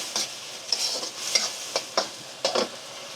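Thai sauce with cherry tomato and pineapple sizzles in a pan while a utensil stirs it, making repeated short scraping strokes over a steady frying hiss, close and fairly loud.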